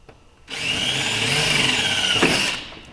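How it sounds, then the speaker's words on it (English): A power drill whines steadily into thin sheet metal on a 1990 Geo Tracker for about two seconds, loud and close, then cuts off. "I'm going to drill that first one and put the insert in"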